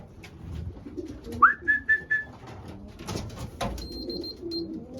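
Racing pigeons at the home loft give a few soft coos, then a thin whistling call, faint and near against quiet background rustle, with no talking.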